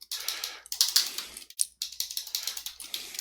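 Rapid typing on a computer keyboard, close and clear, in quick bursts of clicky keystrokes broken by short pauses, with no talking.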